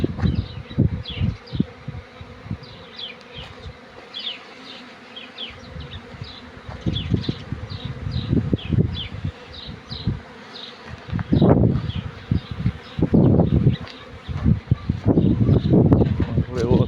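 A dense, loud, steady buzzing hum of honeybee colonies flying over an apiary fills the air, with someone speaking over it at times.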